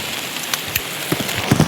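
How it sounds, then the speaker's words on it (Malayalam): Monsoon rain starting to fall outdoors near Kuttiady, Kozhikode, a short steady hiss of drops with a few louder patters and splashes near the end. "അയ്യോ നല്ല മഴ, ഓടിക്കോ."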